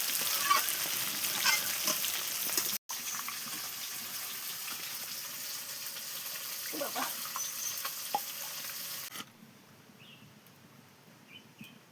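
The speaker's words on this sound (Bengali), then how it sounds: "আমি মাছ ভাজছি।" Hilsa-type river fish frying in oil in a pan over a clay stove outdoors, a steady moderate sizzle and crackle with brief stirring clinks, dropping sharply quieter toward the end.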